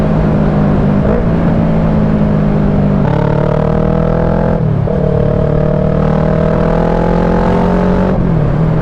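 A motorcycle engine revs on a road in Mohali, Punjab, with its steady hum stepping up in pitch twice as the throttle opens, loud and close throughout.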